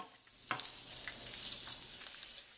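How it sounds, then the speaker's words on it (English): Chinese sausage fries in sunflower oil in a pan with a steady, fairly quiet hiss and crackle, with one soft knock near the start and no talk. "Add the Chinese sausage and cook for about 5 to 7 minutes until the sausage darkens a couple"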